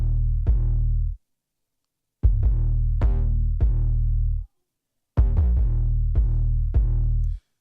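Distorted 808 bass widened in stereo with delay, playing a pattern of booming low notes that decay with gritty upper-mid harmonics, in three separate phrases with short gaps between them.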